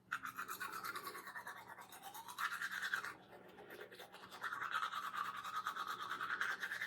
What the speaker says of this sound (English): I'm gonna brush my teeth.